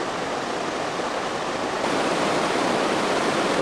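Roaring mountain river in New Zealand, snow-fed and running over rounded rocks, a loud, steady broadband rush of water that continues unbroken, with no voices.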